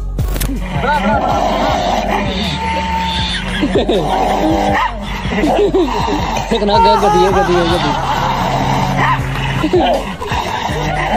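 Dog barking and whimpering while reacting to a dog mask whose dog sounds play from a mobile phone; yips, whines and barks come close and loud, almost nonstop, with a person talking over them.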